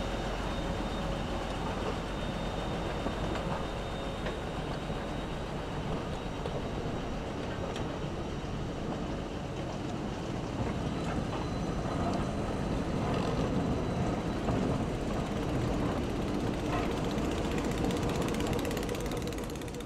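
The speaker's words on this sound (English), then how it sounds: "the Barclay once again couples up to take the AERPS coach back off the junction onto the Swanwick sidings" A Barclay diesel shunter, a 1950 Class 11, moves a railway coach on sidings. It gives a continuous, dense rumble of engine and rolling wheels with faint clanks and ratcheting clicks, steady and fairly loud throughout, with no talking.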